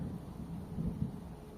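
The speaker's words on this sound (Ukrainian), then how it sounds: "Так, ну, гроза." Low, rolling thunder from a thunderstorm rumbles steadily through the whole stretch, a distant, muffled roar with a slight swell in the middle and no voices.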